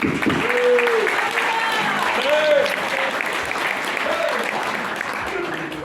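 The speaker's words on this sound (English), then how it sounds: "How about giving him a round of applause?" An audience applauds the chief at a Maori cultural performance, a steady wash of clapping throughout while an announcer's voice talks over it in the foreground.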